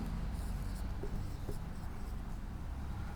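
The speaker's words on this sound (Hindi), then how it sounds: "लिखेंगे हम" Pen or chalk writing during a physics lesson on measurement errors, faint scratchy strokes over a steady noisy background.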